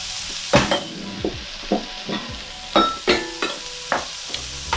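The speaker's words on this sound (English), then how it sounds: "And we are going to add the leek, the mushrooms," Sliced leek and mushrooms hit a hot oiled pan, with steady sizzling under repeated sharp scrapes and clatters of stirring, close and irregular.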